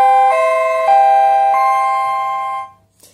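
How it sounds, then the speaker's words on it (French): A chime built into a 100-volt public address unit rings on power-up in a few sustained tones, each new note struck about every half second, then fades away to near silence. "Quand je le mets en route, voilà, j'ai le carillon qui se met en route tout seul."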